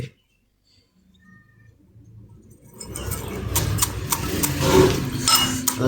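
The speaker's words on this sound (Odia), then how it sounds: "ମୁଁ ବଢ଼ି ଚୁରୁଛି ବଢ଼ି ଆଉ ପିଆଜ ପକେଇକି ଦେଖନ୍ତୁ" Bori lentil dumplings being crushed together with onion, a dense rattling and clattering of crushing strokes that starts after a quiet opening and builds steadily, close and fairly loud with no speech.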